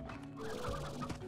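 Rooster clucking in the video game Slime Rancher, a short burst of soft, throaty clucks over a low hum.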